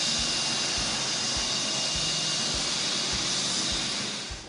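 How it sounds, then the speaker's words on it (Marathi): A helicopter, repaired by a car mechanic in Kolhapur, runs its engine during a test flight: a loud, constant whine and rush with a regular thudding rotor beat underneath, steady throughout and fading slightly at the end. "हेलिकॉप्टर उड्डाणासाठी सज्ज झालं आणि अर्ध्या तासात हेलिकॉप्टरनं पाहुण्यांसह आकाशात भरारी घेतली"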